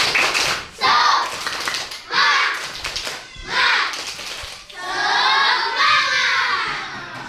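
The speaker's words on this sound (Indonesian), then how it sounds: "sebelum pulang kita tepuk semangat dulu." Schoolchildren in an Indonesian classroom perform a rhythmic tepuk semangat clapping chant at the end of a lesson, with bursts of patterned clapping alternating with loud chanted voices in several distinct phrases.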